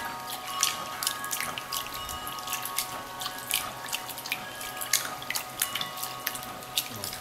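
Water splashes and trickles steadily with many small drips and pours, close by, as purple forbidden rice is rinsed in a bowl under running water.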